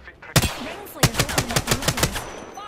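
Video game gunfire: one loud shot, then a rapid burst of about nine or ten evenly spaced shots from a weapon set to single fire, close and sharp with no talking.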